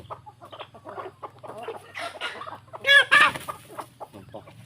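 Several farmyard chickens cluck and squawk close by, with a rooster's loud crow rising in the middle over a low rumbling background, and no talk.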